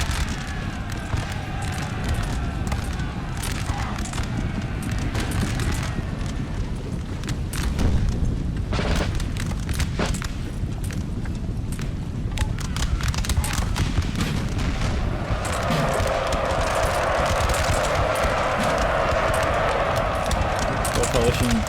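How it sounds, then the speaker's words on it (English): Canister shot artillery fire on a Napoleonic battlefield in Napoleon Total War, heard as repeated booming blasts and crackling gunfire amid constant battle din, with a voice talking over it. "Canister shot."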